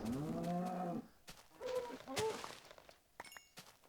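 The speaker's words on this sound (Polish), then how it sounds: "O, krowę dziabniemy." A cow is struck in Minecraft and lets out a short moo-like bellow, followed by a few soft hit sounds and small clicks, heard alone and fairly quietly.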